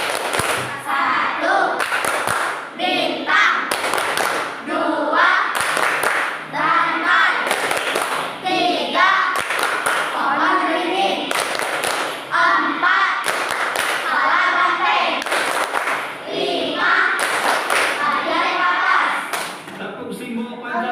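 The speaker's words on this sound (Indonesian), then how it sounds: "lanjutkan dengan tepuk simbol Pancasila" A class of children performs the Pancasila symbol clapping chant, loud rhythmic hand claps in repeated bursts alongside their chanting voices, close by in a classroom.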